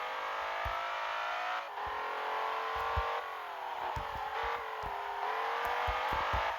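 Engine of a BMW M5 or Mercedes C63 in the Assoluto Racing game, driven on the Nürburgring, drones steadily throughout, with revs rising and dropping and quick shift blips in the second half. No one talks.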